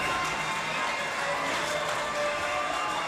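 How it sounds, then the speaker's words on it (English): A stadium crowd at Bing Crosby Stadium roars in a sustained, dense wash of cheering right after a grand slam in a Front Royal Cardinals versus Charlottesville TomSox baseball game, steady and loud throughout without talk. "the crowd has just absolutely erupted here in Bing Crosby Stadium"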